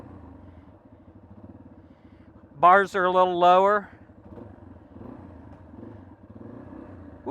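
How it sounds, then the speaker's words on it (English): A used 2015 Yamaha XT250 motorcycle engine idles with a low, steady rumble while someone speaks briefly close by. "It's a used motorcycle, but it was literally only ridden on the roads"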